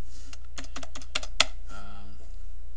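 Rapid keystrokes tap on a computer keyboard at a Windows Vista PC, about a dozen close clicks in a quick burst over a low steady hum, with no voices.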